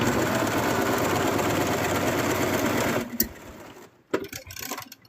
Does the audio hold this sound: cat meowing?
no